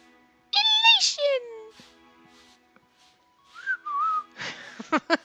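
Someone attempts to whistle during a video game session, producing a few wavering, breathy whistled tones with gaps between them, close and fairly loud.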